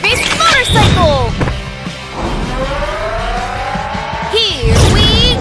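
A cartoon motorcycle revs and roars off with squealing, swooping engine tones, loud and close, while animated voices shout around it.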